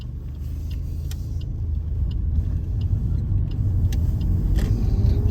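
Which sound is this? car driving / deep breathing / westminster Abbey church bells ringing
car driving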